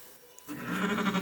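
A goat on a livestock farm lets out a single wavering bleat after a moment of quiet, close and clear, with no talk.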